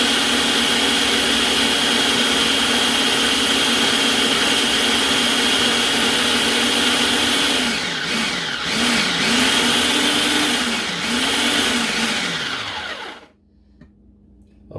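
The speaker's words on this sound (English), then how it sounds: "now is where we turn around and start adding in the oil through the top of the food processor" Food processor whirring as oil is poured in to make pesto, a loud steady motor whine that wavers in pitch toward the end before cutting off abruptly, leaving near silence.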